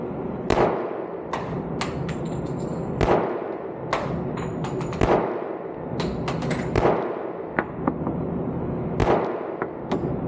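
Repeated gunshots from an Armscor .45 caliber 1911 pistol at a shooting range, sharp loud cracks at irregular intervals with some overlapping distant shots and steady background noise, no talk.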